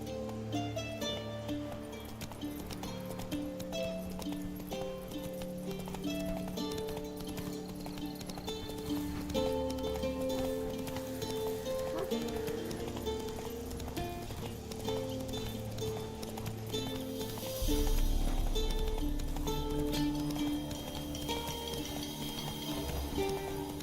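A horse gallops in the video game Witcher 3, its hooves clip-clopping in a steady rhythm under background music throughout.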